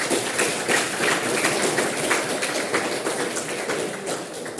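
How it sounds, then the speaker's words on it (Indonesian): A crowd of university students claps hands together in steady, dense applause that fills the room, fairly loud and unbroken, with no talking over it. "mari kita tepuk tangan untuk kita semua dulu"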